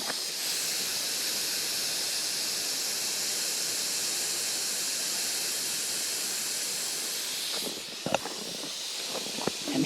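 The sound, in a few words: propane gas hissing while refilling small green propane tank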